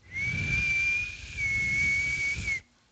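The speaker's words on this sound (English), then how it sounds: "That's my whistle." A single sustained whistled tone held steadily for about two and a half seconds with a slight wavering in pitch, close and clear with no talk over it.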